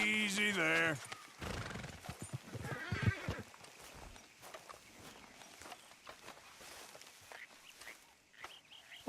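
A horse whinnies loudly at the start in Red Dead Redemption 2, followed by scattered hoof clops and faint movement sounds, with some talk mixed in.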